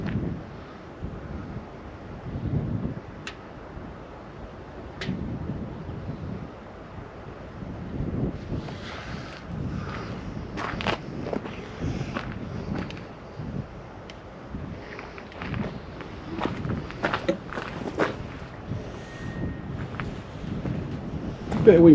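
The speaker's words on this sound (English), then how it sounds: "Bit of wind guys, about 5 miles an hour." Light wind of about five miles an hour gusts across a microphone on the River Humber shore at Paull on a chilly evening, a low steady rumble with occasional louder buffets and faint background sounds.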